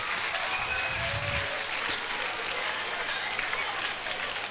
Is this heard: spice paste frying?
no